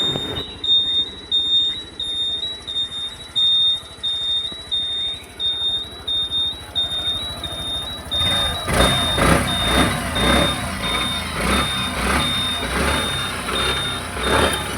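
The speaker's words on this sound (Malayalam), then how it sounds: "ഇനി വണ്ടിയുടെ എൻജിൻ സൗണ്ട് കൂടെ ഒന്ന് കേട്ട് നോക്കാം" A Suzuki Access 125 BS6 scooter with about 11,595 km on it runs its engine close by, with a steady repeating electronic beep on top; the engine noise swells louder and rougher in the second half.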